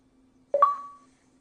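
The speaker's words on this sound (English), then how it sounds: "Sorry, there's nothing I can do about the Xbox notifications." An Xbox notification chime pops up once, a short two-note electronic tone that rises and then holds and fades, heard alone over a faint low hum during an online gaming session.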